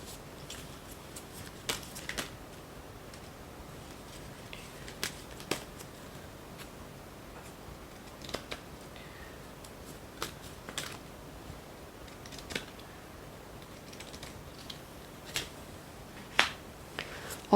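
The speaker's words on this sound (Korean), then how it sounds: "천사의 조언 카드 마지막으로 펼쳐보도록 할게요" Tarot cards being drawn and laid out on a table, with soft, scattered ticks and snaps of card edges at irregular intervals across a quiet background.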